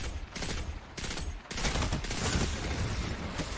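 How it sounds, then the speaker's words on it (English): SMG gunfire in a Destiny 2 Crucible match: dense rapid bursts of automatic fire rattle almost without pause, loud and close, with shots layered over one another. "We're gonna rush this guy with an SMG."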